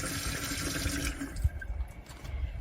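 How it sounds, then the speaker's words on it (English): Water gushes from a kitchen tap in a cargo camper at close range, a steady broadband rush that stops partway through, followed by quieter drips and clatter. "running water."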